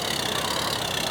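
Car engine in GTA Online straining and losing speed, a steady dense broadband roar that stays loud and even throughout, with no talk.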